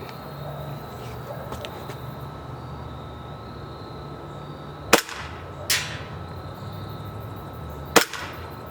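Airsoft HK3P PX4 pistol pellets striking a target at 100 feet outdoors: three sharp distant snaps spaced a few seconds apart over steady ambient background hiss.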